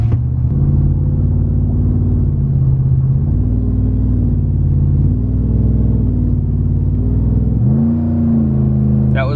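A Ram 1500 Hemi pickup fitted with a 3600 stall converter pulls away from a cruise, its deep, loud V8 rumble holding high revs with slight shifts in pitch, heard from inside the cab without speech.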